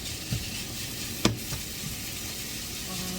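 Ground meat frying with potato in a pan, a steady soft sizzle throughout with a couple of brief clatters of a utensil stirring, no talk.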